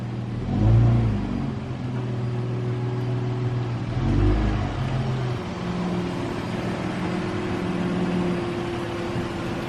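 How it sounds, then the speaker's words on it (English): Ford Mustang EcoBoost pulling into a garage, its engine idling with a steady low hum and two brief revs near the start, then a continuous whirring drone at close range. "Now I'm just gonna move that car in over here."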